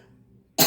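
A single sharp, loud cough bursts out abruptly after a stretch of near-silence with only a faint low murmur underneath.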